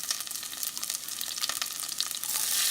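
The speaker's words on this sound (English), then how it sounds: "In a heated pan, I have taken 2 tablespoons of olive oil and then I am adding vegetables" Carrots and green chilies frying in two tablespoons of olive oil in a heated pan, a loud dense crackling sizzle that swells briefly near the end, heard alone without speech.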